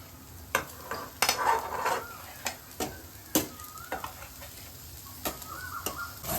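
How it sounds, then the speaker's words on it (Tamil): Paneer is stirred into sautéed capsicum and onion in a pan for a sandwich stuffing, a low sizzle broken by irregular scraping and tapping strokes of the spoon against the pan, close up. "பன்னீர் எல்லாத்தையும் போட்டு நல்லா மிக்ஸ் பண்ணிக்கலாம்"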